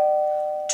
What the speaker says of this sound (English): Lucy rings the doorbell.